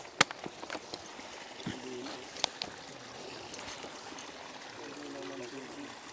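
Clear irrigation water runs along a channel beside a rural farm path, giving a continuous gentle trickling and burbling, with scattered close knocks and splashes and people talking softly nearby.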